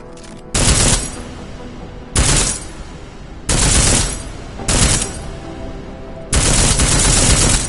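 Bursts of armor-piercing gunfire in Deus Ex: Mankind Divided: five loud, dense volleys of rapid shots, each lasting about half a second to a second, separated by short quieter gaps, with no talking.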